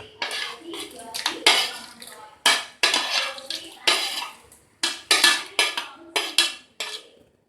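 A spoon scrapes and clinks against a metal pot while stirring a china grass pudding mixture, about a dozen sharp close strokes in an uneven rhythm, with quiet gaps between them.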